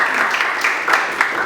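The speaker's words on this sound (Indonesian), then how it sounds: "Give applause. Berikan tepuk tangan." Applause at a university speaker introduction event, a steady, fairly close patter of audience clapping with a few sharper claps standing out, brief and uninterrupted.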